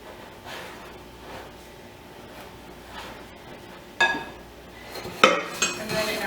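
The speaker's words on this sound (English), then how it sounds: "I'm going to scrape the sides just so I know that all of the sugar and flour has been incorporated" A spatula scraping the sides of a mixing bowl of shortcake dough with sugar and flour, faint soft strokes at first, then louder clinking and scraping knocks against the bowl near the end, no voices.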